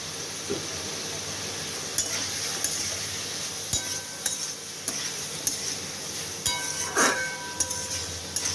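Spices, Kashmiri chilli, potatoes and pointed gourd fry with a low sizzle while a utensil stirs, giving scattered clinks and scrapes against the pan at an unhurried pace.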